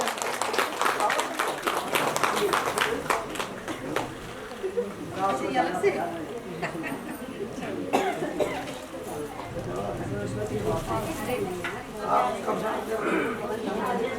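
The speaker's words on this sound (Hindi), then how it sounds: "तालियों से स्वागत करें।" Scattered clapping from a crowd at an International Women's Day event in Delhi swells and fades over several seconds, mixed with coughs and murmuring voices in a room.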